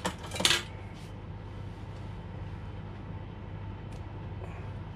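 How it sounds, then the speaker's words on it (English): Cooked beef olives on a chopping board having their string trimmed off, with a few sharp metallic clinks of a knife or utensil near the start, then quiet kitchen background. "now we've got to trim off the bits of string."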